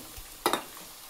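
Green chillies hit hot oil with onions in a pan of chicken curry, a quick double sizzle that flares briefly and fades within a second against a quiet background.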